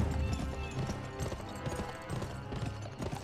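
Horse hooves clip-clop at a steady riding pace in the Western video game GUN, a close, rhythmic patter of hoofbeats running through the whole stretch over a low bed of game sound.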